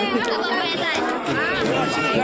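Dense crowd chatter fills the grounds of the Katradevi temple jatra in Sagwe, Rajapur, Konkan, a steady close hubbub of many overlapping voices with no single speaker standing out.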